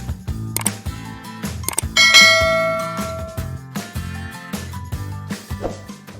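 A bright notification bell chime rings out among rhythmic clicks and dings, with a ringing tone sustained for a second before the ticking pattern continues.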